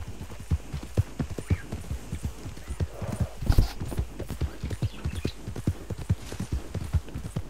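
Horse hooves clip-clopping in the video game Red Dead Online, a steady, fairly close rhythmic trot with occasional louder thuds and a faint background hum.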